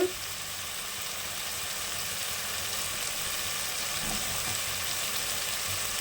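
Cubed eggplant sautés in a pan as the base for a dried anchovy and cowpea curry, giving a steady, even sizzling hiss that runs unbroken throughout at moderate loudness, with no voices.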